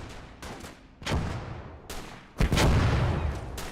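Gunfire and heavy booms hit a mortar in a war video game, several sharp separate blasts, the last one loud and drawn out, with no voices.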